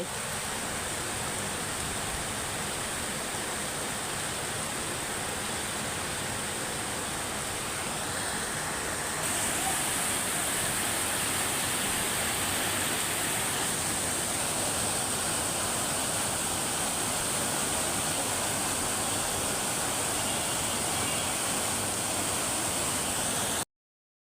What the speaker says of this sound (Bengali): দেখেন এত জোরে বৃষ্টি নামছে।